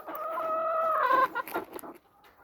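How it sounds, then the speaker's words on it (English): A Peruvian Kelso rooster and a Peruvian gray hen cluck close by on an off-grid farm during morning chores, a run of throaty calls that breaks into short, choppy clucks and then fades. "This is a Peruvian Kelso cock. That is a Peruvian gray hen."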